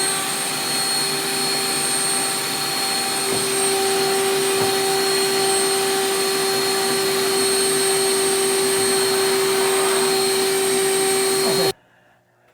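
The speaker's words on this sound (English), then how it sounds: "I will go ahead and vacuum that out." A vacuum cleaner runs with a steady loud whine and roar, close by, then cuts off abruptly near the end.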